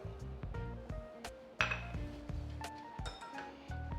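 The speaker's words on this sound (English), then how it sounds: "I wanna whisk this together." A whisk or utensil clinking against a bowl while mixing egg, all-purpose flour and melted butter for a pumpkin cheesecake filling: a close, irregular run of bright clinks and taps over several seconds, with no talk.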